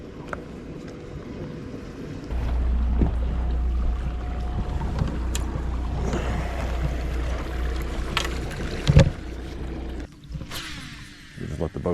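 A motorboat on a lake: a low motor rumble starts after a couple of seconds and drones on steadily, with water splashing and wind noise around it, and a louder thump near the end.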